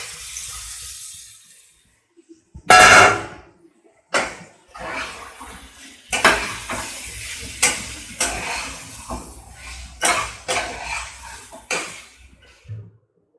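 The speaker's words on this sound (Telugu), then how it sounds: "పింక్ కలర్ వచ్చే వరకు ఆనియన్స్ వేయించుకున్నాక మనం ముందుగా వేయించుకున్న కాన్స్ని ఇందులో మిక్స్ చేసుకోవాలి" Fried corn kernels are stirred into onions fried until pink in a pan, with repeated scraping strokes over a soft sizzle and a few louder clatters, no voices.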